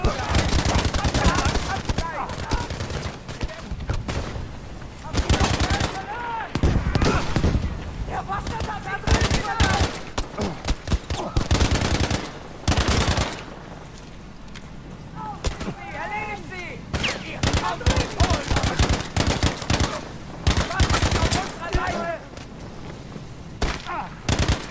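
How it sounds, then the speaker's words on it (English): Bursts of assault rifle fire in the video game Battlefield V, repeated sharp volleys in irregular clusters separated by short pauses, loud and close throughout. "just get used to firing this gun against bots"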